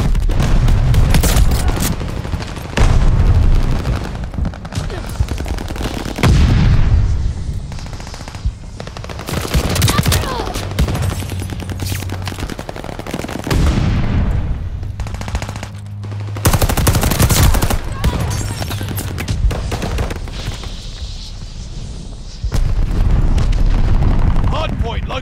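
Heavy gunfire rattles in Call of Duty: Vanguard at a hardpoint, with bursts of machine-gun fire and booming explosions coming in repeated loud waves, mixed with game voices and callouts.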